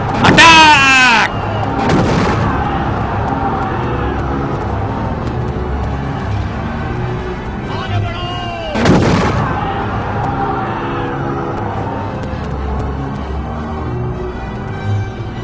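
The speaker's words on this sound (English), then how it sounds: "Tipu shot his tanks towards the valley." Cannon and gunfire in an animated battle scene, a heavy boom at the start and another blast midway, with rumbling battle noise and shouting voices in between.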